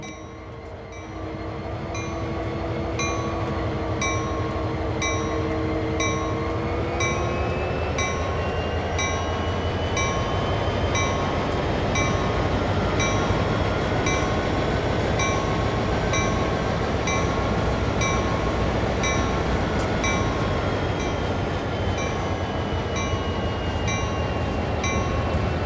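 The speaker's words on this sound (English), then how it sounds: "This locomotive is now ready for service." An SD40 diesel locomotive on the Clinchfield Railroad in Train Sim World 2 rumbles steadily, its engine drone rising slightly and holding loud and constant with faint rhythmic track clatter.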